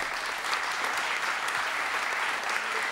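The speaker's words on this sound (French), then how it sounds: "On peut encore applaudir." Applause fills a room at the end of a conference panel on Pan-Africanism and reparations, dense continuous clapping from a sizable audience, steady and even for the whole stretch.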